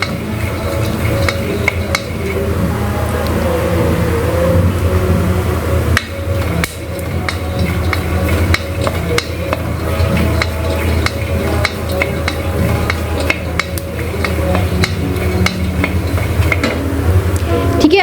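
Groundnuts roast in a pan while being stirred continuously, giving a dense, rattling, scraping clatter of nuts against metal with faint sizzling, steady and close for the whole stretch.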